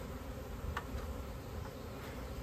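Honey bees from a freshly shaken swarm drone in a thick, steady hum, nearby and constant, with an occasional louder bee zipping past.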